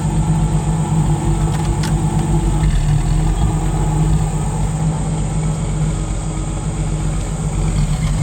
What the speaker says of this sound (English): Let me just listen to it idle.